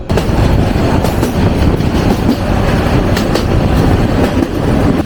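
The 782 Kishoreganj Express runs on rails between Kishoreganj and Dhaka, a loud, continuous rumble with rhythmic clickety-clack of wheels over joints and occasional faint metallic squeals, heard from onboard without voices.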